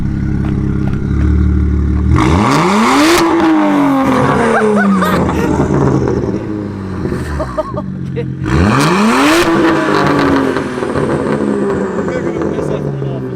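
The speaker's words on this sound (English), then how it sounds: "It's gonna rev for me." Straight-piped BMW 135i coupe engine revving hard twice, each rev climbing in pitch then falling back with raspy, loud exhaust crackle, close by, with people talking around it.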